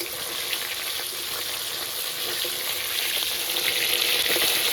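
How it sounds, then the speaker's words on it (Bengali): Tengra fish fry in oil in a home kitchen pan as the fish is flipped, giving a steady close sizzling hiss that swells slightly toward the end, with no one talking. "আর এদিকে মাছের এক সাইড ভাজা হয়ে গেছে উল্টে দিচ্ছে"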